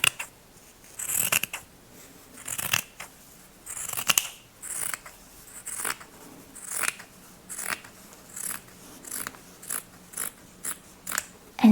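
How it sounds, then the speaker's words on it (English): Scissors snip fabric around a punch needle piece, a steady run of about twenty close, crisp cuts in a quiet room, with no talking. "I'm going to cut it all around so that I am not bothered by the rest of the fabric"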